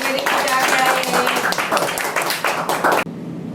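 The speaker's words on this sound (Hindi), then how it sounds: "जोर से ताली बजाओ" An audience at a church gathering claps loudly, a dense run of sharp overlapping claps with voices underneath that cuts off abruptly near the end.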